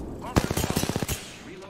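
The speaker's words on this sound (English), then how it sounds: "I'm getting shot" A quick automatic burst of about ten rapid gunshots in the video game Apex Legends, evenly spaced and punchy, lasting under a second before fading, with a voice briefly present.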